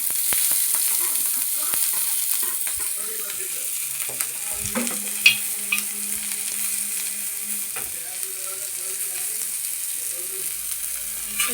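Onion frying in oil in an iron pan, a continuous close sizzle with scattered scraping and clicking stir strokes throughout.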